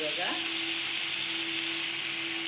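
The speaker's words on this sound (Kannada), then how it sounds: "ಟೊಮೊಟೊ ಬೇಯ್ತಾ ಇದೆ." Tomatoes cooking in a pan for drumstick-leaf sambar give a steady soft sizzle and hiss close by, with a faint stirring scrape near the start and a constant hum beneath.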